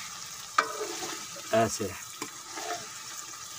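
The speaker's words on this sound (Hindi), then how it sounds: "इस तरह हिलाएं," Masala fish curry sizzling in a pan as it is stirred, with a few short scraping bursts over steady frying hiss, close by; a voice speaks briefly.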